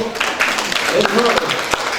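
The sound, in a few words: audience applause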